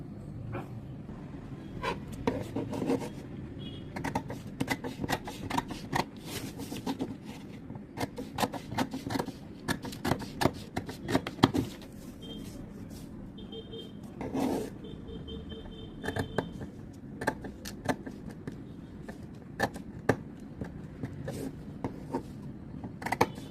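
Shears cut out the marked center portion of a canvas fabric piece for a neckline, a steady series of close crisp snips and rustles with no talking.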